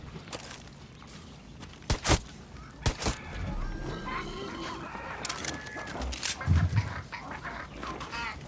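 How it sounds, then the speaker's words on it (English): Roosters and other fowl crowing and clucking in the Far Cry 6 video game, several calls at a middle distance mixed with sharp game sound effects, no voices. "I hear roosters."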